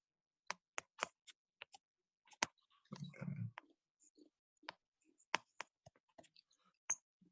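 Typing on a computer keyboard, sparse irregular clicks and taps spread across the moment with short pauses between keystrokes, close and fairly quiet, with a brief low rumble in the middle.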